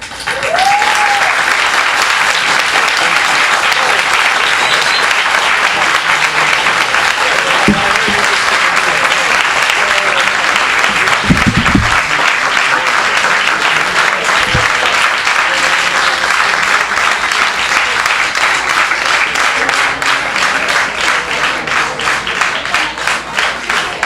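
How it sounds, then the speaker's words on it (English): A large crowd applauds loudly and continuously, a dense wash of clapping that holds steady for over twenty seconds, with a few faint voices underneath. "How about another round of applause?"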